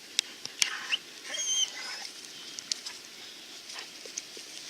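Dogs at a cabin in Livingston, Texas, during a rain event make faint whimpers and scattered light pattering sounds, heard from a short distance over quiet background noise.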